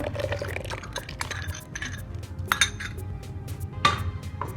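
Prepared coffee from a mixer is poured into milk for a homemade cold coffee, a steady liquid pour with clinks of cutlery and glassware, close and alone without talk.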